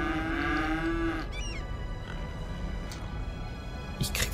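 In Cities: Skylines, a cow gives a long, loud low moo, followed by a shorter rising call, then faint farm ambience and a few small clicks.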